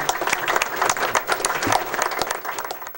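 Applause from an audience at an awards ceremony honoring Black men of distinction, dense sustained clapping from a large crowd filling the room at steady loudness.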